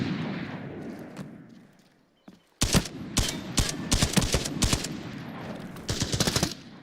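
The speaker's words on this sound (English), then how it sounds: "I'm using the MPX." An MPX submachine gun in Arena Breakout fires rapid bursts, loud and close, after a quiet, muffled stretch with a brief thump.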